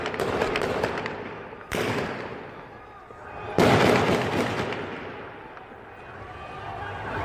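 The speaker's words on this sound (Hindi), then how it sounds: "ऐसा लग रहा है बॉर्डर पर गोलियां चल रही हैं" Three sharp bursts of loud, crackling gunfire at a border, each trailing off into rumbling echoes, heard outdoors at a distance.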